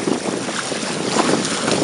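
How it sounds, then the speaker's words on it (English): Small sailboat beating upwind in a force 4 breeze, with waves and spray rushing against the hull and strong wind buffeting the microphone, a continuous loud broadband wash with no voices. "I'm beating now into the wind, and you can see that when you're going into the wind there's a lot more waves"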